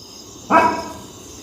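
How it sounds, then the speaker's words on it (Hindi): A dog barks once, loud and close, in a short burst at night outdoors at a mountain home in the hills, with a quiet background before and after. "कुत्ते आ रहे भाई।"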